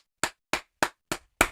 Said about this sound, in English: let's get the clapping sounds